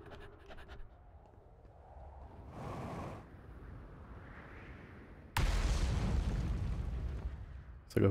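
Cannons in the video game Outer Wilds: a distant deep rumble, then a sudden loud blast that settles into a sustained roaring crash, like heavy cannon fire nearby.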